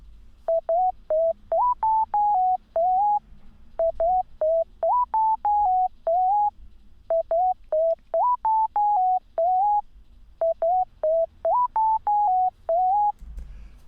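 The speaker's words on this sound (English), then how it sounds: "it's literally just a sine wave." A plain sine wave synth lead from Serum plays a short repeating melodic pattern of clean, evenly spaced notes, looped four times with brief gaps, clear and alone with no voices.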